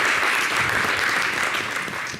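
Audience applause at a live show, a thick continuous patter of many hands clapping, loud and even, easing slightly toward the end.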